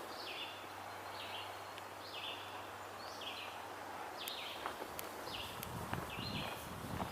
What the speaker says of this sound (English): So I believe we're hearing a red-eyed vireo right now.